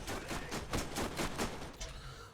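An automated turret firing in Borderlands 1 Remaster, a rapid series of about eight evenly spaced sharp shots, moderately loud, tapering off at the end with no voices.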